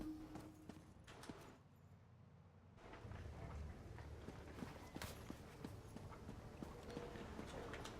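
Horse hooves clip-clopping at a steady walking pace in a video game, sharp rhythmic clops over a low background hum, fairly close.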